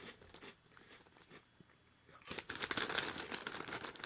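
Crunching and chewing of crispy Waffle Puffs snack up close. The first half is quieter, then loud, dense crunching bites take over for the rest.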